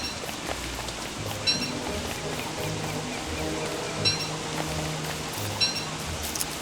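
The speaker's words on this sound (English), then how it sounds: "First autumn rain." Steady rain falls in the video game Don't Starve, a continuous soft hiss of autumn rainfall with occasional brighter drips, heard at moderate volume throughout.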